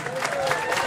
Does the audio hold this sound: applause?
yes